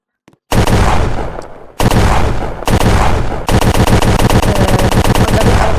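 Rapid video-game gunfire with a realistic weapon, loud and close, in two short bursts and then a long sustained automatic stream that empties the magazine, with no voices.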